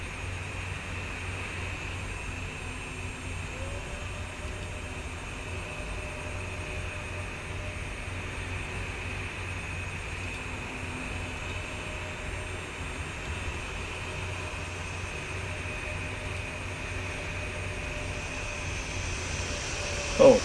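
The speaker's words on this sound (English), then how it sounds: "Oh, there's an EasyJet." EasyJet airliner jet engines in a flight simulator game, a steady even whine and hum that holds throughout, with a faint tone drifting across the middle and a brief sharp bump at the very end.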